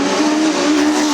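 Stock cars race around Arlington Stadium, their engines a steady, loud drone that holds an even pitch for the whole moment, with no break or pause.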